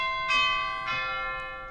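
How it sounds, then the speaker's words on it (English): Chimes percussion stop on a church pipe organ, salvaged from a 1936 Estey organ: two clear bell strikes about half a second apart, each ringing with a long sustained metallic decay, with no talk. "was one of the percussion stops on the organ, and it's the chimes"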